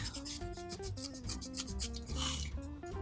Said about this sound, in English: Hit it with a scouring pad real quick.